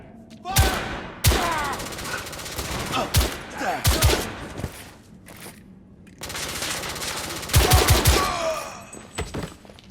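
Bursts of gunfire in the video game The Order: 1886, loud sharp shots in clusters and rapid volleys separated by short lulls, with shouted voices mixed in.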